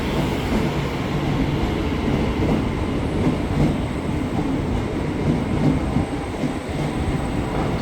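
A twelve-car KRL commuter train bound for Cikarang via Manggarai rolls into track 2 at Duri station with a loud, steady rumble and rail noise that stays constant throughout.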